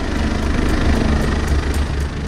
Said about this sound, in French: c'est le son des hélicoptères qui transportent les cas les plus graves d'un hôpital à un autre